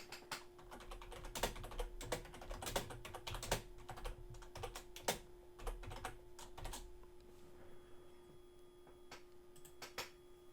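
Keystrokes patter on a computer keyboard in a steady, fairly fast run for about seven seconds, then thin out to scattered taps, all quiet and close against a constant low hum, with no talking.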